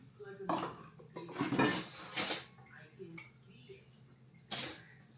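Dishes and silverware being washed in a single-basin kitchen sink, with several bursts of clattering cutlery and knocking pots and pans at close range. Quiet stretches fall between the bursts, and a voice can be heard faintly in the background.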